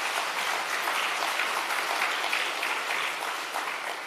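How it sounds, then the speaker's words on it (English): Steady applause from a conference audience, dense, even clapping that holds at a constant level throughout. "Can you give them a round of applause?"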